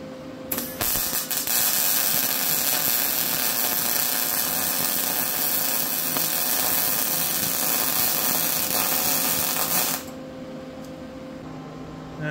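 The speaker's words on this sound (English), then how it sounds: "That's my first weld right there." Steady crackling buzz of welding on a truck part for a locomotive, one continuous close run of about nine seconds that cuts off abruptly near the end.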